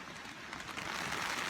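Steady rain falls on a backpacking campsite in Kentucky's Red River Gorge, a continuous broadband hiss that swells slightly louder toward the end, with no voices.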